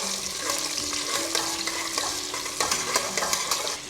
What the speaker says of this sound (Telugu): చక్కగా నూనెలో ఈ ఉల్లిపాయ బాగా వేగాలండి.